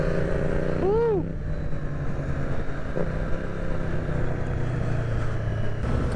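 A Triumph Street Triple 765 RS three-cylinder motorcycle revs up and down once early on, then settles into a steady loud engine drone while riding.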